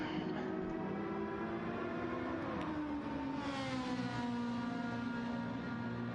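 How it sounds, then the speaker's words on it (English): A Ferrari Group 3 race car engine in a racing video game at Monza revs high and then shifts down to a lower, smooth drone, continuous throughout with a synthetic, game-like tone. "it's the best sounding race car of the Group 3s"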